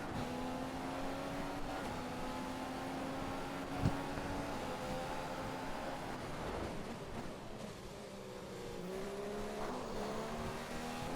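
Open-wheel F2 race cars in a racing video game at the Austrian Grand Prix, several engines whining together at high revs with steady pitch shifts as they run close, one brief thump midway, no talk.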